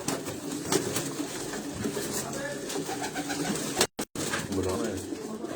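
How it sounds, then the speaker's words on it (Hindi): Pigeons of a long-flying Pakistani breed, including a young large Chinese pigeon, coo softly and steadily in a loft while someone talks over them. "ये जो बड़ा चीना कबूतर है ना, ये बच्चा है।"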